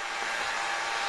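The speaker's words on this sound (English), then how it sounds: "you hear that? That's the sound of drying action." A small motor in a Disney Minnie Mouse toy nail dryer whirs steadily with a bright, even hiss, like a little fan running close by for about a second.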